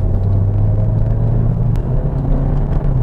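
Engine of a Mk7.5 VW Golf R Estate switched into race mode, a steady, loud low rumble with a strong droning tone, heard from inside the car with no talking.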